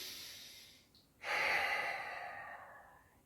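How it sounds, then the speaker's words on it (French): A deep breath drawn in during a floor exercise workout, with knees raised and the back relaxed: a brief faint hiss, then a loud, sustained airy inhale that slowly fades out, heard alone. "J'inspire."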